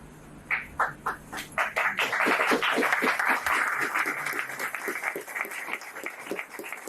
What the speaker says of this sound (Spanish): Me emociona el aplauso de ustedes